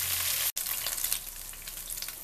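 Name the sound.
chicken frying and sizzling in a pan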